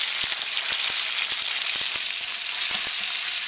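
Ground pork fries in a hot pan for an instant ramen stir fry with shrimp, giving a loud, steady sizzle dotted with sharp popping crackles throughout.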